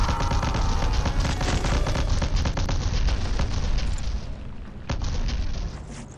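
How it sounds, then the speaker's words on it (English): Dense, heavy explosions rumble and crack in a first-person shooter game, a continuous barrage of booming blasts and gunfire-like bursts, briefly dipping before another loud surge. "Holy explosions, okay."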